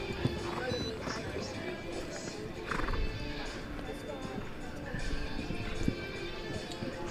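A horse canters around a show jumping arena at an FEI World Cup qualifier, with rhythmic hoofbeats and a neigh at moderate distance, under commentators talking and some crowd ambience.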